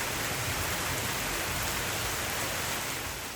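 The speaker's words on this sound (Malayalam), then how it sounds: "നല്ല മഴയുടെ ശബ്ദം കേൾക്കുന്നുണ്ടല്ലേ?" Heavy rain pours down steadily, a dense continuous hiss of drops close by with no pauses and no voices.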